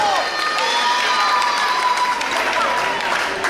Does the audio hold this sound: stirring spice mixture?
no